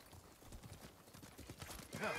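Horse hooves clip-clopping in the video game Ghost of Tsushima, a quick, rhythmic beat of steps close by with a brief whinny-like sound near the end.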